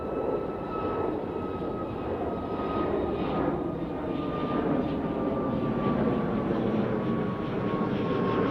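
A fixed-wing airliner passes overhead at Manchester Airport, its engines a loud, steady roar with a faint whine that holds for the whole stretch.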